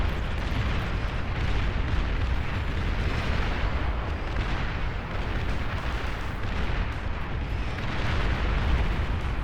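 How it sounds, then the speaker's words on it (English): A continuous roar of explosions and heavy booming blasts in the strategy game Beyond All Reason, dense and loud throughout with no pauses, like a chaotic battle. "So many explosions."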